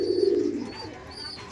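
A Laldom master pigeon pair coos low and steady while feeding their young in a loft, close and soft, with a faint voice in the background.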